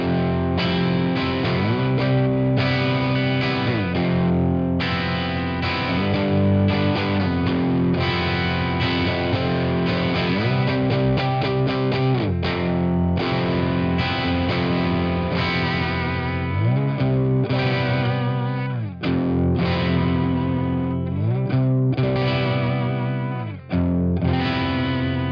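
An electric guitar played continuously through an MXR Micro Amp boost pedal, giving a loud, sustained, slightly driven tone with chords and riffs ringing out steadily.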